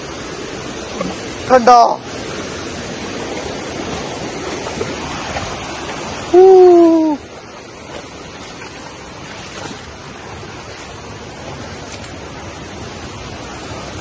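Sekumpul waterfall in Bali sends a steady, broad rush of falling water through the whole scene, with voices speaking over it and a couple of brief sharp calls standing out.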